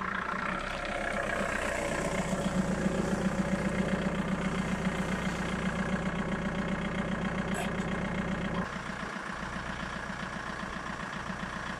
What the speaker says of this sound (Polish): ten silnik chodzi normalnie